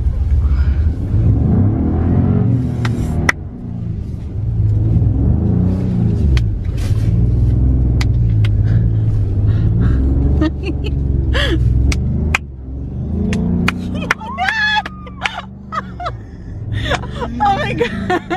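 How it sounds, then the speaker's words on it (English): A car spins donuts in fresh pristine snow, its engine revving and rumbling in surges close by, while several people talk, gasp and exclaim over it throughout. "We're doing part 2 of the donuts because we found a little bit more pristine snow."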